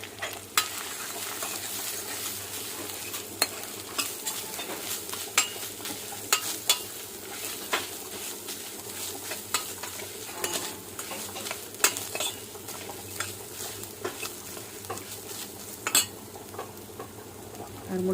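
Grated coconut roasting in a pan with cashews for a sweet coconut thirattu, giving a steady soft sizzle with scattered spoon-stirring clicks and scrapes throughout, fairly quiet, with no talk.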